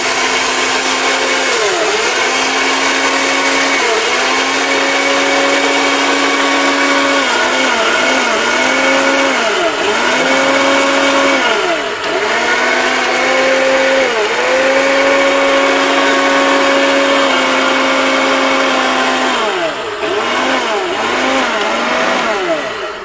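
A high-speed 26,000 RPM blender grinds rice for pitha, a loud, continuous close whine whose pitch dips and recovers repeatedly as the grains load the blades.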